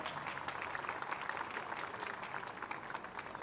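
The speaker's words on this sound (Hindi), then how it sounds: "जोरदार तालियां बजाइए हम लोग।" A crowd applauds steadily at a temple building inauguration and consecration ceremony for Shri Jhulelal Varun Devta, with dense, continuous clapping that holds at an even level throughout.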